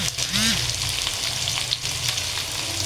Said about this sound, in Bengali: আমি আলুটা আগে ভেজে নিব